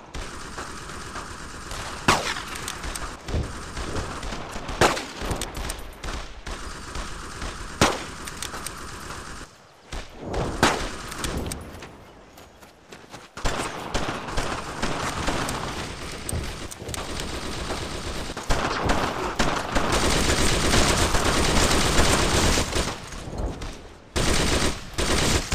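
Online multiplayer battle in Brothers in Arms: Road to Hill 30 on the original Xbox, with dense automatic weapon fire and rattling bursts of shots that continue almost nonstop. The gunfire drops out briefly midway, then returns louder and sustained.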